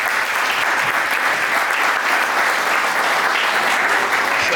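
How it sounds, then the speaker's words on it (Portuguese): Steady, dense applause from a conference panel audience, continuous and fairly loud throughout with no pauses. "Salve de palmas aí"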